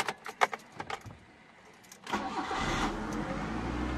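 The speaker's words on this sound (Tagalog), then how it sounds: "Okay, start natin yung sasakyan." A 1997 Mitsubishi Lancer with new battery terminals starts up: a few sharp clicks and jangling keys first, then the engine cranks and catches, settling into a steady loud idle.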